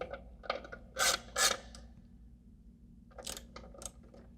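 Steel screws being snugged into an aluminium valve cover on an Aston Martin V12, heard as a few short close ratcheting clicks in two separate clusters with quiet pauses between.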